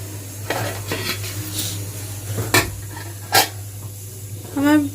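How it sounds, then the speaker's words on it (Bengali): A metal lid goes onto a pot of Kolkata-style Bengali mutton biryani, giving a few sharp clanks and scrapes over a steady low hum, with a brief whining sound near the end. "আবার আমি ঢাকা দিয়ে দিচ্ছি।"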